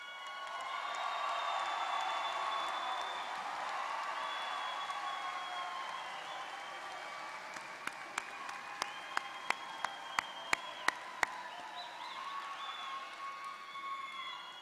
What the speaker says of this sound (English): Will all our honor students please rise to receive our applause?